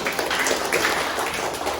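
A group of schoolchildren applauds with dense, continuous clapping that forms a steady wash of noise, without pauses, at moderate loudness.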